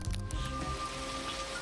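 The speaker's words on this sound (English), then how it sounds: "Hauer, who played Roy Batty in Blade Runner, was filming the final rooftop scene with rain pouring" Steady rain pouring on a rooftop in the Blade Runner scene, a dense continuous patter under a low sustained musical tone.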